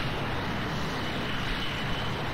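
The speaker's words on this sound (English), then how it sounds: "I really think the jet engine sounds cool." A steady, roaring jet engine drone with a broad hiss, constant and unbroken throughout, from a military jet-helicopter in Garry's Mod.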